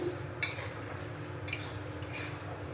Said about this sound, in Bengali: গ্যাসের ফ্লেমটা এখন আমি মিডিয়ামে রেখে অনবরত এইভাবে নাড়তে থাকবো